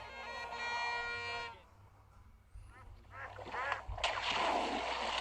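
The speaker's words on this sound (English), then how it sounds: "What's this? Duck?" A duck quacks in a South African TV advert from the 80s or 90s, sharp nasal calls that come after a stretch of music and are followed by louder noisy bursts.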